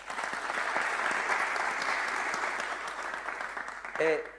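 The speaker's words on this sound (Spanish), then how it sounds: "Un aplauso más para ellos, por favor." A live audience bursts into sustained applause after a talk, a steady wash of clapping that holds for several seconds before a voice briefly cuts in near the end.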